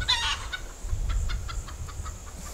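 A backyard rooster crows in a long warbling call at the start, followed by a run of softer rhythmic clucks from the flock, moderately near with faint outdoor background.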